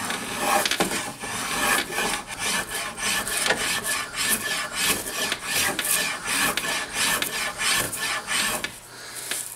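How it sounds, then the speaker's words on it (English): Steady rhythmic rasping strokes of a spokeshave shaping a wooden axe handle, repeated back-and-forth scrapes close up, with a brief pause near the end. "Take that spoke shave. We gotta smoothen out that shape and round over both sides."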